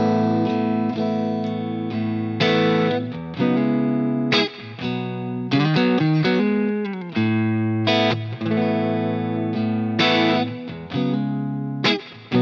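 Electric guitar played through a small AMS Twister 5 amplifier with its fat switch off, alone and close: a sustained, slightly distorted, effects-coloured tone of strummed chords and picked notes with brief pauses between phrases.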